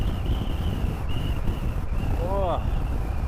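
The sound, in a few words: wind through an open helmet visor while riding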